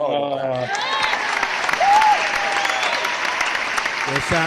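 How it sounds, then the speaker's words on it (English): Steady audience applause fills the whole stretch, a dense even wash of many hands clapping at moderate loudness, with a brief voice at the start and end. "Give applause one time."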